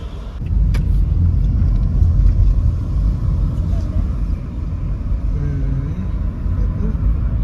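A bus rolls by on a busy Kingston street in Jamaica, a loud, close, low engine rumble with road noise that swells and then eases, while people talk over it.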